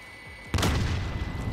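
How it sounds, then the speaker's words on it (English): A frag grenade detonates in Call of Duty Warzone with one sudden loud boom at about half a second, followed by a rumbling, crackling tail that sustains to the end over low game ambience. "Throwing another frag."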